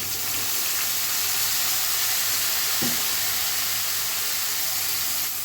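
Spice paste of onion, ginger and garlic with cumin and coriander powders sizzling in a pan, a steady close frying hiss with no talk.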